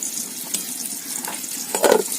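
Eggplant fries in a pan with a steady, close hissing sizzle, a brief louder crackle swelling near the end and no voices.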